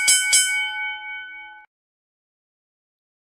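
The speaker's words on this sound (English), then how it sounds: "there's the bell" A single bell strikes twice in quick succession, bright and ringing, its tone sustaining and fading over about a second and a half before silence.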